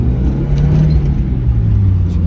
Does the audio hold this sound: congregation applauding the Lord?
no